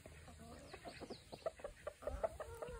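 Several chickens cluck in short, scattered bursts, close by and fairly soft, with low rustling and shuffling underneath.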